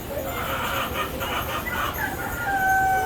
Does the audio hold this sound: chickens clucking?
yes